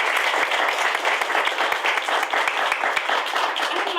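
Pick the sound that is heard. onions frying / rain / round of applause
round of applause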